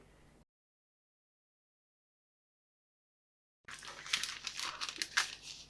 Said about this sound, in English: Going to get my scissors, cut off on an angle from that marked line to